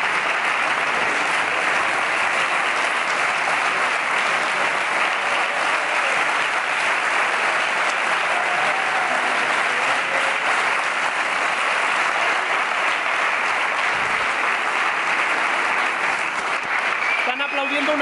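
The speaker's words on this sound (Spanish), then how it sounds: "están aplaudiendo una pantalla azul" Steady, continuous applause from a crowd, dense and even throughout, with a brief shift in the final moment.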